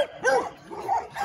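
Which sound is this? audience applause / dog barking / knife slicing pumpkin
dog barking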